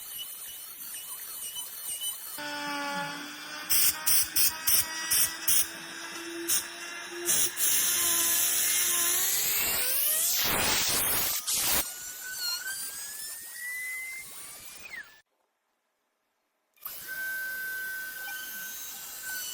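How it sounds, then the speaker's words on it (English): A CNC machine cutting baseball stitch patterns into a wooden home plate gives a loud, steady high-pitched whine with shifting tones and rhythmic bursts as the bit moves, up close, then falls silent briefly before the whine returns. "Here you can see the machine cutting out what's going to be baseball stitches"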